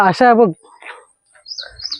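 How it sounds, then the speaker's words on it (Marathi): Small birds chirp and tweet in short high bursts near a hidden waterfall at Chirma Devi in Thane, following a brief spoken voice at the start. "अशा ठिकाणी आल्यावर असे बारीक बारीक पक्ष्यांचे असे छोटे छोटे आवाज ऐकायला मन एकदम प्रसन्न होतं"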